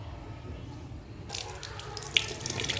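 A kitchen tap switches on partway through and runs in a steady splashing stream as fresh lemon leaves and oregano are rinsed under it, water spattering close by with no speech.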